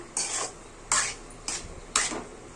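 Stirring and sautéing in hot oil for shark puttu, a Tamil-style dish of crumbled shark, with four distinct scraping strokes of a spoon against the pan, each a short bright rasp with gentle sizzle between, fairly close and alone.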